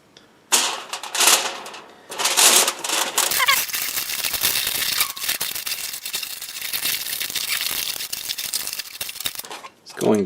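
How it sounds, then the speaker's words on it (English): Aluminium foil being unrolled and laid down on a work surface before tie-dyeing, loud close crinkling in several bursts followed by continuous rustling and handling. "I'm going to go ahead and put some foil down."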